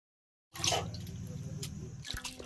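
Clams being rubbed and rinsed by hand in water, a sudden onset of sloshing and dripping after silence, fairly close and moderate in level.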